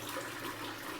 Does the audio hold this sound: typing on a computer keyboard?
no